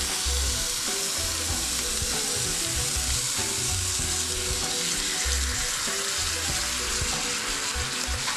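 Salmon skin crisping in a frying pan, a dense, even sizzle and crackle lasting throughout, close and steady with soft intermittent low knocks of pan handling beneath it.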